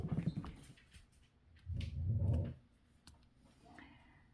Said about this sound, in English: He's a barking.